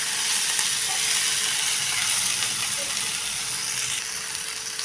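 Okra (bhendi) stir-fried in masala over a medium gas flame sizzles in a loud, steady hiss, with faint scraping and clicking from stirring throughout and no voices.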